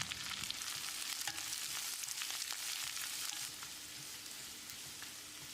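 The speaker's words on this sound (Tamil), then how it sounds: "இதோட 1/2 டீஸ்பூன் பெருங்காயத்தூள் சேர்த்து வெங்காயம் லேசாக செவந்து வர்ற அளவுக்கு வதக்கி விட்டுறலாம்" Finely chopped onion sautéing in hot oil with curry leaves and chillies in a pan, a steady close sizzle with crackling pops throughout and no voices.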